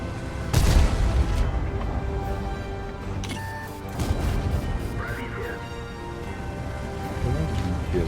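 Tank cannon shots in World of Tanks, from a Polish 53TP heavy tank battle: a loud booming crash near the start, then rumbling battle noise with further thuds and mechanical whines.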